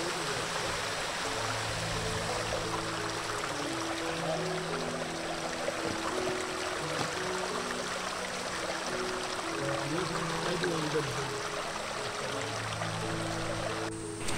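A mountain stream about 500 metres long rushing steadily nearby, a constant even flow with soft music playing over it.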